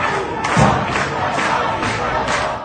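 Angry mob shouting in news footage, a dense crowd roar with rhythmic bursts of chanting and heavy thuds, loud and close throughout.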